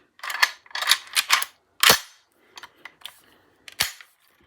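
Stainless steel Ruger Mini-14 Ranch rifle with a rotating bolt being cycled by hand, a series of sharp metallic clacks and snaps, loud and close, in quick bursts with short pauses between.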